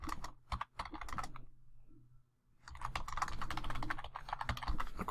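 Typing on a computer keyboard, close rapid clusters of key clicks that stop briefly for a pause and then resume in a dense burst.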